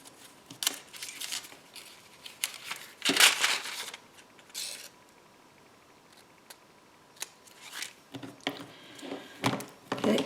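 Crisp snips and crunching cuts of scissors through paper, a few close sharp bursts separated by quiet pauses.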